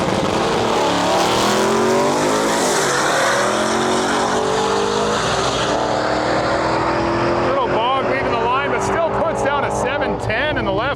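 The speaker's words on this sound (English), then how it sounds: "we got a regular cab F-150 pulling up here. Sounds supercharged." A supercharged Ford F-150 regular cab pickup pulls up at a Canadian drag race, its engine droning loud and close with rising and falling revs, then a burst of revving near the end, under an announcer's voice.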